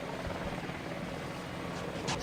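A Mi-8 helicopter in the video game Battlefield Vietnam makes a steady, low rotor drone that stays even and fairly faint throughout, with no talk over it.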